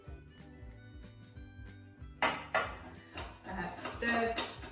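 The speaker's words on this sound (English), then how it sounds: "stir in the middle of the well, and then start to incorporate the sides of the flour" Vegan pancake batter of flour, egg replacer and milk being stirred in a bowl, with soft scraping and a few sharp utensil knocks against the bowl rising over a quiet musical background.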